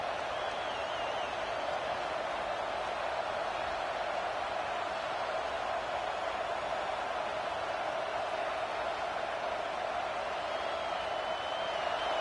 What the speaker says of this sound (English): This crowd, full throat, splitting the eardrums and letting them know it's going to be a long day